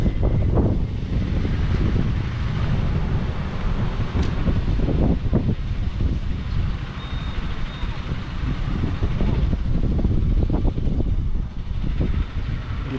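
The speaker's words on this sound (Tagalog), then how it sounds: "Ang lakas ng hangin." Strong wind buffets and roars against the microphone in uneven gusts, loud and constant, with faint talk partly buried beneath it.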